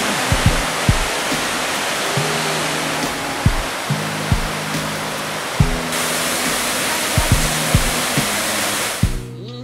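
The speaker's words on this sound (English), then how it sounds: "Here we are at Torc Waterfall." Torc Waterfall in Killarney National Park, Ireland, pours as a steady, loud broadband roar that fills the whole clip, with a few soft low knocks and thumps nearby over the constant rush of water.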